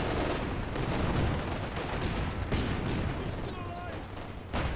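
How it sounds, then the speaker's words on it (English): MG42 machine gun fire in a World War II video game match, dense sustained bursts and battle noise running continuously under a commentator's voice. "Caddy will be coming in for the MG42 yet again"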